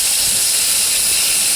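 Chicken frying with onions and tomatoes for chicken mandi makes a loud, steady, close sizzling hiss that runs unbroken through the whole moment.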